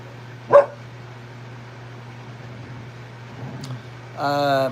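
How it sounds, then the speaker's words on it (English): A single sharp dog bark sounds near the start over a steady low hum, then quiet with faint movement, followed by a longer whining yelp at the end. "always barks like crazy when they're let out"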